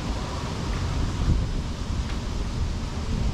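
Steady wind rushes and buffets around a tree climber working high in the top of a tall tree, a continuous broadband roar with no speech.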